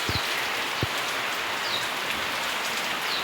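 Heavy rain pours down during a thunderstorm in Liper, a dense, steady hiss close by with a couple of brief low thumps near the start.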